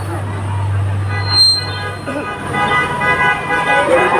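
Car horns honk in support of a street protest over steady traffic and a low engine hum, with voices talking and calling out nearby.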